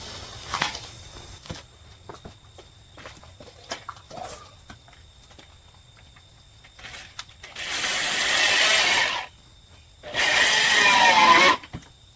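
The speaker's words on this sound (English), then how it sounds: "we're just going to drill them together" Small mechanical clicks and handling noises, then two loud bursts of a power drill driving screws into 2x4 wood boards, each lasting a second or two.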